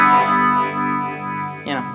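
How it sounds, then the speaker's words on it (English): Electric guitar through a Boss Chorus Ensemble pedal gives a shimmering, wavering doubled tone: a couple of sustained chords ringing close and clear, with a fresh pick attack near the end. "Just the boss, the chorus ensemble."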